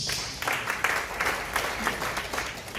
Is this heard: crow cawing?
no